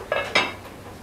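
A cooking pot set down on a stove to heat before frying curry leaves, pandan and star anise for Malay beef gulai, giving two close metallic clanks in quick succession, then quiet.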